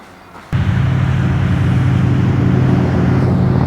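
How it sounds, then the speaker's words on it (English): Motorbikes roar past on a mountain highway, the Highwood Pass in the Canadian Rockies, their engine noise starting abruptly and staying loud and steady with no talk. "Motorbikes."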